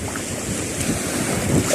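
Rough, murky sea with many waves washes steadily around a small boat, a continuous close roar blended with wind buffeting the microphone.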